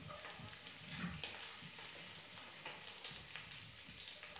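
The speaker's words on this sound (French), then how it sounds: "je vais colorer mes crevettes" Shrimp sear in a hot pan with a steady, soft sizzling hiss, fairly quiet and continuous, with no talking over it.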